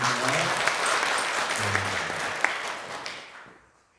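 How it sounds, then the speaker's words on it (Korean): A church congregation at a Sunday worship service applauds together, a dense sustained clapping that fills the room, then fades out near the end. "박수하겠습니다."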